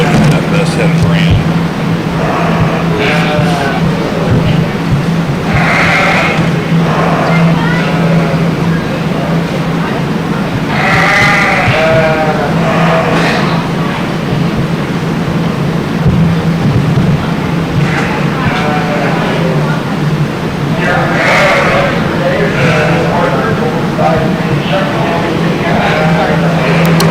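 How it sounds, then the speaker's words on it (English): Yearling Cotswold ewes in a breeding sheep show ring give off scattered bleats, some loud and drawn out, over steady barn hum while people talk throughout. "Really nice class of Cotswold yearling ewes here."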